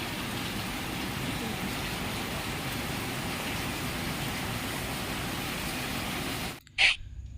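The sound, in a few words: heavy rain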